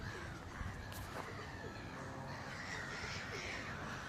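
Crows caw faintly at a distance in the Lake District, UK, where a large flock has gathered to be fed, the calls thin against a steady outdoor background.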